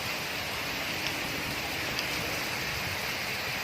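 Dense, steady downpour with strong wind in the mountains of Kashmir, roaring evenly with a constant wash of hiss, a couple of faint drops or knocks standing out briefly.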